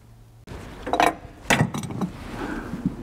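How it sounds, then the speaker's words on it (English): A spanner works on a spool valve with a few metallic clicks and scrapes of the tool on the fitting, close and fairly faint, scattered over a quiet room. "Let's put a spanner back on it."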